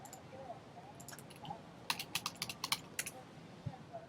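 Someone types a code into a computer keyboard, a quick burst of close, crisp key clicks in an uneven rhythm over a quiet room.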